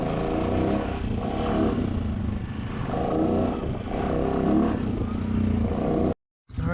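A Honda engine revved with a left-hand throttle, a steady close rumble with rising and falling surges over about six seconds, then cutting off abruptly.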